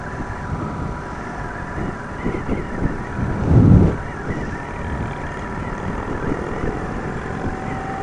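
Steady, roaring wind buffets the microphone on a 2017 Indian Chief Dark Horse motorcycle ride, rumbling continuously with a heavier low gust midway.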